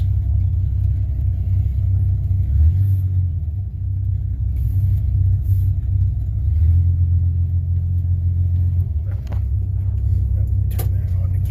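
Engine idling steadily at close range as one of fourteen vehicles at a family property is readied for a short ride, a low continuous rumble with a brief knock near the end.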